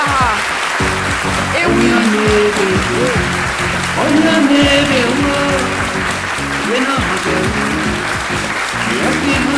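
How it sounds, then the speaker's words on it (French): Loud studio audience applause greets a guest's entrance on a French-language midday TV show, with music playing and a host's voice speaking briefly over the steady clapping. "je vous invite à applaudir très très fort pour Coulibaly Clément Nambara"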